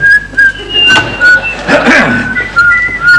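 A person whistles a lively tune up close, the bright notes rising and falling in short phrases, with faint background rustling.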